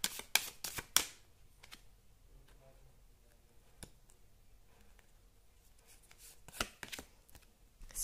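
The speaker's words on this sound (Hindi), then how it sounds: "2 कार्ड निकालते हैं।" Tarot cards shuffled and drawn during a Hindi tarot reading, a few quick papery riffles at the start, then soft scattered taps and slides of cards being laid down, close and quiet.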